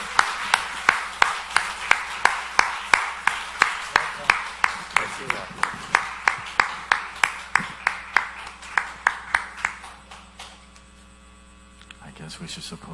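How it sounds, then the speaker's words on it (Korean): A conference audience claps in a steady, even rhythm to welcome pastors, the sharp claps carrying over a mains hum and fading out near the end. "박수로 환영해 주시기 바랍니다."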